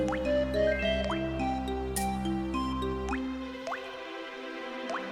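Water droplets fall in the Crystal Caves level of Donkey Kong 64, a string of soft, evenly spaced plinks with rising pitch set over a calm, sustained musical melody.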